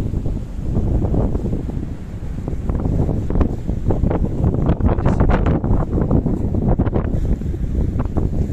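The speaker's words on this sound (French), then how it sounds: "ce petit spectacle matinal, ce dynamisme marin avec ces vagues furieuses, excitées" Rough, furious sea waves break along the coast near Alicante in the morning, a loud, continuous surging wash with repeated crashing surges and wind noise over the microphone.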